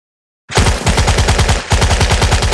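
Machine-gun fire effect from the Valor & Victory wargame: after half a second of silence, a loud close burst of rapid evenly spaced shots rattles steadily to the end, briefly restarting midway.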